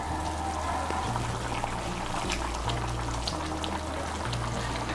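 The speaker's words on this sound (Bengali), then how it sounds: "এই দেখুন ঝোলটাকে ভালো করে ফুটিয়ে নিয়েছি।" Gravy for potato paneer curry bubbling in a pan, a steady close simmer with soft popping and a low background hum.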